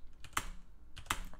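Two distinct clacks of keys being struck on a computer keyboard, spaced under a second apart, each with a faint lighter tap close by, heard up close in a quiet room.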